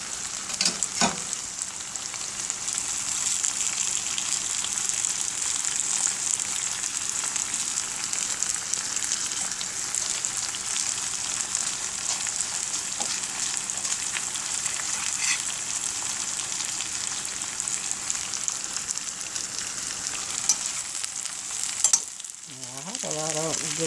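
Food fries steadily in a pan, likely cast iron, a dense continuous sizzle lasting throughout with a few brief clinks near the start and end, no talking.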